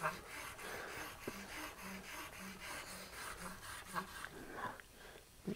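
Spokeshave blade honed on a fine sharpening plate, a soft rhythmic back-and-forth rasping at a steady pace, close but quiet, with no talk.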